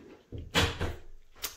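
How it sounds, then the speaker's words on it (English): A bathroom drawer slides shut with a low rumbling glide and a soft thud, followed moments later by a short, faint knock, heard close up. "they can easily just stick their hand in, close the drawer, and come on in"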